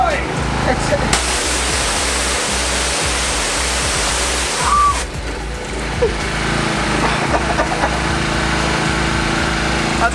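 A power washer sprays water hard in a steady, loud rushing hiss, briefly cutting out and restarting, with people talking and shouting over it outdoors.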